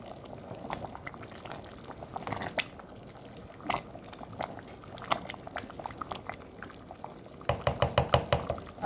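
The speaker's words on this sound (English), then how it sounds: "And you stir." Corn chaff porridge stirred in a pot: soft bubbling simmer with scraping and knocking of the spoon against the pot, irregular taps growing busier toward the end, close and fairly quiet.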